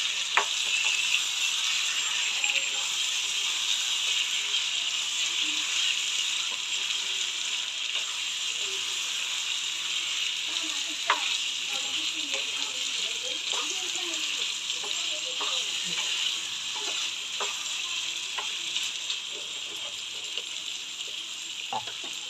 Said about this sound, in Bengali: এখানে আমার 1 কেজি মাংস আছে। দিয়ে ভালো করে নাড়ব।